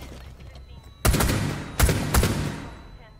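Gunfire in the Rainbow Six video game: two loud, close bursts of shots about a second apart, each with a ringing tail. Game audio sits under quiet background sound.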